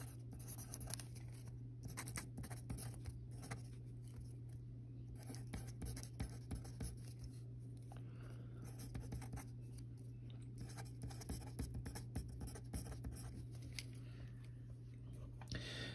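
Handwriting on paper, faint scratchy pen strokes in irregular short runs over a constant low electrical hum and background hiss, close but quiet, with no speech.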